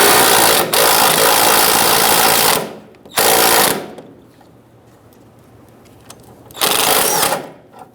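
A tool with a 19mm socket works on a front sway bar link of a 2010-2013 Kia Soul, giving loud, harsh rattling bursts close by: two long runs, a quieter gap, then a final shorter burst.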